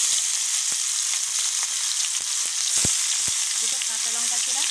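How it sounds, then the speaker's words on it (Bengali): Chopped onion frying in hot oil with cardamom, cinnamon, cloves and cumin for mustard koi fish, a loud, dense, continuous sizzle with scattered crackles and spatter pops, close up. "পেঁয়াজ কুচি দিয়ে দিচ্ছি,"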